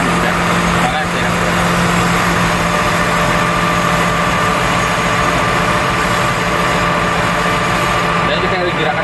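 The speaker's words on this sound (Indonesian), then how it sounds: "Maka bucket dari unit tersebut akan bergerak." SDLG wheel loader engine running steadily as its bucket moves, a loud constant heavy diesel drone with low hum heard up close, while someone talks over it.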